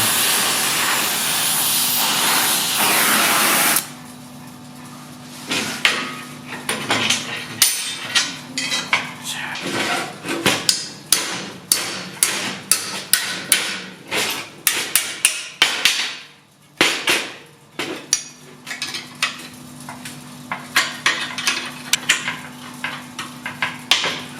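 A hammer works a nut off a Transit van. A few seconds of loud steady hiss lead into repeated sharp metallic blows in irregular bursts, close and loud, with brief pauses between runs of strikes.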